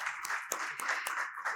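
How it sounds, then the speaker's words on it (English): Brief, steady applause from an audience at a panel discussion on customer experience in lending, a dense patter of clapping at moderate level throughout. "I request everyone to please give a huge round of applause for everybody."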